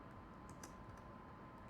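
Keys tapped on a computer keyboard while entering a website address, a quiet, steady patter of keystrokes with no voices.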